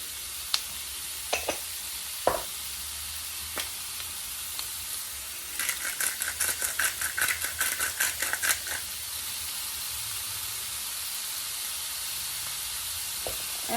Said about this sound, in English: Alright, so we got these sauteing